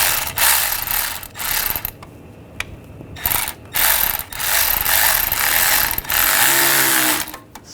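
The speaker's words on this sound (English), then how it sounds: "Now we'll tighten the clamp down right there." Ratcheting clicks from a hand tool snugging a clamp on the thermostat housing of a 2008-2012 Jeep Liberty with the 3.7L V6, heard in several close, loud bursts separated by short pauses.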